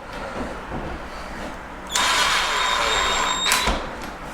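A power drill drives a screw into pre-drilled plywood over framing during a pantry remodel, a loud steady whine starting abruptly partway through and running continuously to the end, with a brief surge near the finish.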